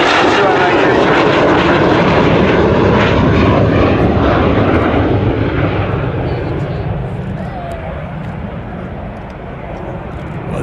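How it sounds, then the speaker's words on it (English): A twin-engine Sea Vixen jet in Royal Navy colours roars past during an air display flypast with its undercarriage down, a loud, rushing engine roar that swells and then slowly fades as it moves away. "Well, there's the Sea Vixen in the Royal Navy colours"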